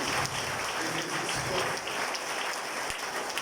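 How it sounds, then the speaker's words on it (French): Church congregation applauding together in a sustained, dense burst of clapping that fills the room, steady throughout and then tapering slightly near the end. "Demandez-nous pour un beau applaudissement pour mon Dieu."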